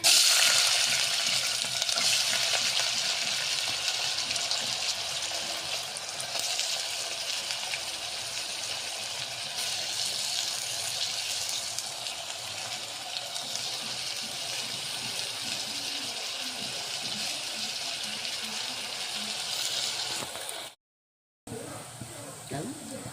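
Finely chopped onions fry in a pan as a continuous bright sizzle and hiss with faint stirring scrapes, close and steady, with a brief cut near the end; a voice may speak faintly under it.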